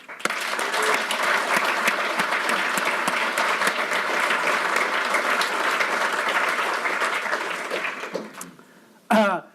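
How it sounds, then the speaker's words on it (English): Sustained, dense applause from a conference keynote audience honouring community volunteers, loud and steady for about eight seconds, then tapering off before a brief burst of speech at the end. "please give a huge round of applause to these 10 people who made such a huge impact the last year"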